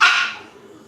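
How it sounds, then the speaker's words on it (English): A single sharp bark from a dog named Byron, loud and close, fading quickly into quiet. "That is my dog Byron."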